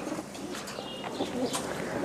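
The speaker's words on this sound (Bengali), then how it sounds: "এখানে বেশ কিছু কবুতর আছে, হাই ফ্লাইং গিরিবাজ কবুতর, পাকিস্তানি হোম ব্রিড।" High-flying Giribaz pigeons, a Pakistani home breed, cooing softly in a loft in the morning before feeding, low murmuring calls with faint chirps over quiet background.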